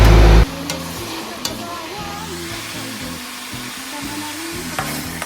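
Loud continuous sizzling of beef and vegetables frying in a pan, with occasional clinks and stirring scrapes, close by.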